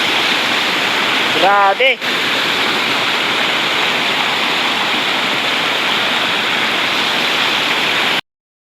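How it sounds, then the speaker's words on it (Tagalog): A river in Ihay with a small water-retaining barrier sends a steady broadband rush of flowing current that fills the whole stretch, while a voice speaks briefly near the start. "Agos dito guys sa mga ihay river."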